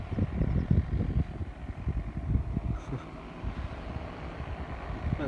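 Strong wind blowing during a paramotor outing, a low rumbling buffet against the microphone that swells loudly at first, then eases into a steadier, softer rush.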